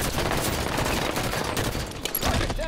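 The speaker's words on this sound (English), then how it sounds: "Sniper fire, move it!" Sniper and other gunfire in Halo 5 forms a dense, busy wash of shots, steady and fairly loud throughout, with no clear single cracks standing out.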